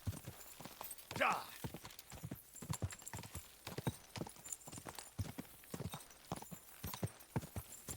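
Rhythmic clip-clop of hooves at a steady gallop with a brief whinny early on, from a medieval video game, the beats continuing under game sound effects.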